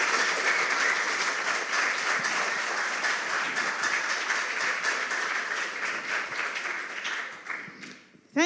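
Loud sustained audience applause with cheering at a school quiz competition quarterfinal, a thick continuous roar of clapping that holds steady and then tapers off near the end.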